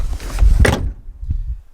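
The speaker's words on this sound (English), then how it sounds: "Now listen to this when I'm going to be closing the door." Door of a 2020 Toyota RAV4 XLE Hybrid swinging shut with a single dull thud, close and alone, followed by a faint low knock a moment later.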